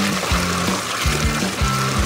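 Water trickles onto a tree being watered, a steady splashing pour with faint rhythmic low thumps underneath, close and moderately loud.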